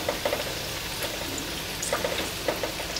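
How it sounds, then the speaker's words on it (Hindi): Dahi vada lentil dumplings frying in hot oil over medium heat, giving a steady, close, bright sizzle with small popping crackles scattered throughout. "हल्का गुलाबी होने तक इसको तलना है।"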